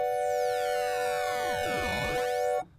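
An Arturia Pigments synth tone, processed by a ring shifter and bit crusher on one macro, holds steady while metallic, gritty partials sweep up and down across it before it cuts off abruptly.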